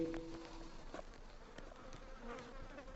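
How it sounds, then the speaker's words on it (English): Steady buzzing of bees or other insects hovering nearby, a continuous hum with occasional louder passes, no talking. "Load of bees here."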